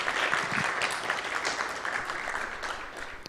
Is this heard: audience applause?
yes